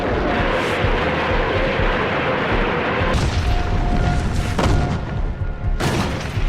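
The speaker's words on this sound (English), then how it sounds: "pounding them with the rocket launchers they call Stalin's organs" A Soviet Katyusha rocket launcher barrage in WWII archive film, a dense continuous rumble of launches and booms with several sharper blasts standing out.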